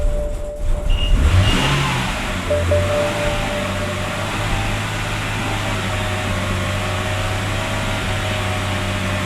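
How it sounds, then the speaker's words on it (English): A BMW E90 330i engine runs at a steady idle after a brief rise in revs at the start, a close, continuous hum with low harmonics and no voices. "The car is running, and it's running actually pretty good, decently fine"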